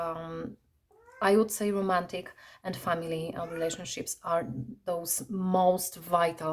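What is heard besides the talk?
pet cat meowing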